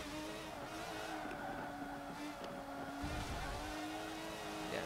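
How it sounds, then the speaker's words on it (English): Racing car engine in Forza Motorsport 7, a steady loud drone with a constant pitch and a slight shift partway through, with no talk over it. "this engine in this car is way more ferocious than in the road car"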